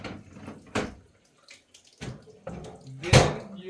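Water splashes from a sink tap in short, uneven bursts, close and fairly loud, with quiet pauses between the gushes.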